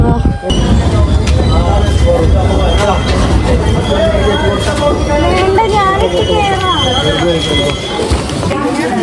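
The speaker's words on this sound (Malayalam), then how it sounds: "ആദ്യത്തെ ട്രെയിൻ വരാനായി" A train rumbles in with squealing wheels and metallic screeches, loud and continuous, while people talk over the noise.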